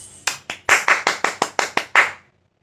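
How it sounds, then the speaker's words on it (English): Children and an audience at a pre-primary school Children's Day celebration clap in a quick burst of about ten sharp, distinct hand claps, close and loud, ending in silence. "So let us put our hands together and give them a huge"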